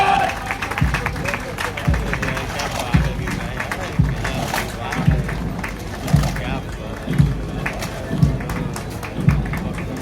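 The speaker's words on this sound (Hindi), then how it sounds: "हमारी सभी प्रशिक्षु आरक्षी जोरदार तालियां" Crowd applauding trainee constables at a police passing-out parade, in rhythmic swells of clapping roughly every second with a thudding beat, heard beneath an announcer speaking over a loudspeaker.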